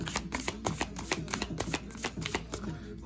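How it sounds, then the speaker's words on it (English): Rapid riffling clicks of a deck of cards being shuffled, close and crisp, repeating in quick bursts. "because I like for y'all to see me shuffle"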